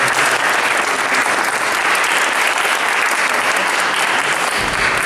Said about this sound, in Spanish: os pido un fuerte aplauso también por eso